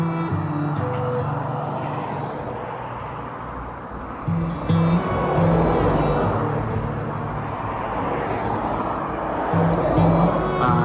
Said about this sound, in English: So apologies for the road noise, but we are right next to a main road.